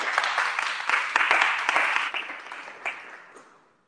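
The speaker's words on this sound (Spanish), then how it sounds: "Y por favor, un aplauso más." Audience applause at a university conference panel session, a dense burst of clapping from a seated crowd that stays steady for a few seconds, then thins out and fades to silence.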